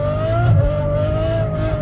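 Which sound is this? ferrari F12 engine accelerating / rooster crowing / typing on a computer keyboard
ferrari F12 engine accelerating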